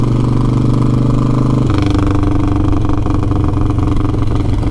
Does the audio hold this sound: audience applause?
no